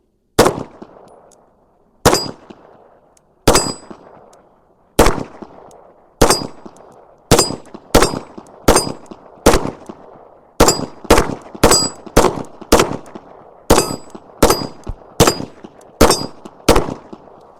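A Beretta M9A4 pistol fires about fifteen shots at a steel clanger target, each crack followed by a ringing clang and decaying ring. The pace starts slow, then turns into quicker strings of shots at close range.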